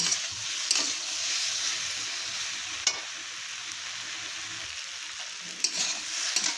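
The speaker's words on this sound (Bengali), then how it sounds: "হলুদ আর নুন দিয়ে ভালো করে নেড়ে নেব।" Pabda fish frying with turmeric and salt hisses steadily up close, with occasional sharp clacks of a spatula stirring the pan.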